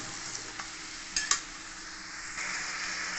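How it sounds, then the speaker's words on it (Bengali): Onions and vegetables with salt fry in a home-kitchen pan for chicken stew, giving a steady close sizzle broken by a few sharp stirring scrapes and clinks near the middle. "আর ভালো করে আমি এবার সবগুলোকে ভেজে নেব।"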